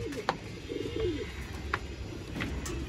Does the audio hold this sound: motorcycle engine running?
no